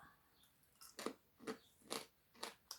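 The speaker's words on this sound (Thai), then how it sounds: "อันเนี้ยหมูกรอบที่ทำออกมา แล้วกรอบ บอกเลยว่ากรอบ" Homemade crispy fried pork is bitten and chewed up close, five loud crunchy bites spaced about half a second apart, each a sharp crackling burst in otherwise quiet surroundings.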